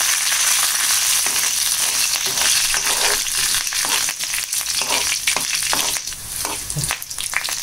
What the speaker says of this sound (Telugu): పోపు వేగుతుందండి.